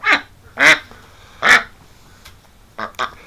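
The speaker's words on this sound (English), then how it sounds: "That's a good little duck." An ailing female duck in a winter pen quacks five times up close, in loud, nasal bursts: three evenly spaced, then a quick closing pair.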